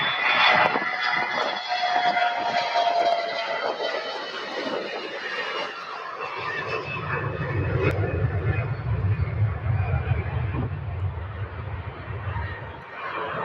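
A CRJ 900 jet airliner rolls down runway 17 right at Louisville airport, a broad steady jet roar heard from a distance with a low rumble building partway through.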